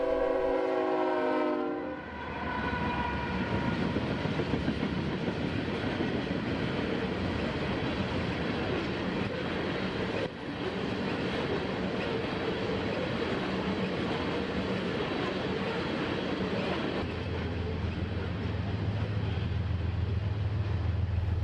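A train blasts its horn loudly at a railroad crossing, then rumbles past in a long continuous roar of wheels and cars, with a low drone rising near the end.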